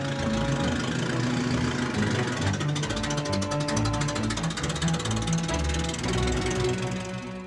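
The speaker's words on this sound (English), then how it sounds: "Fire it up, and you practically feel each individual explosion spinning the engine's internals to a lazy idle." A century-old Stutz Bearcat with a 6.4-liter inline-four engine idles lazily, each slow firing pulse distinct in a low, rhythmic chugging with mechanical clatter on top, close and steady throughout.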